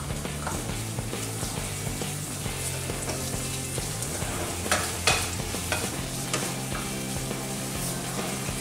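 Green onions stir-fried in a wok over a high flame make a steady close sizzle, with a spatula clinking and scraping in quick irregular strokes throughout and no talking.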